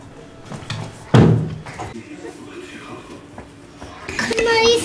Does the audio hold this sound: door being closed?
yes